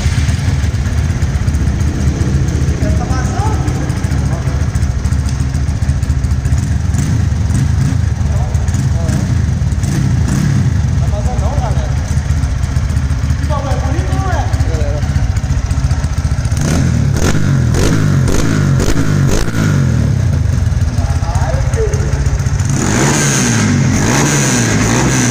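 A single-cylinder motorcycle with a new stainless steel 969 Xtreme exhaust idles and revs repeatedly, its throaty exhaust rising and falling close by, with people talking over it at times.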